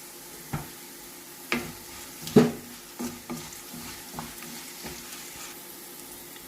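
Onions frying in a pan with turmeric and salt added, stirred with a few sharp scraping clacks at uneven intervals over a faint steady sizzle.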